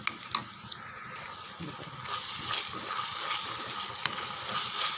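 Ground ginger garlic masala paste sautés in a pan for a brinjal (kathirikai) gravy, giving a steady close hiss and sizzle with a few sharp clinks of utensils.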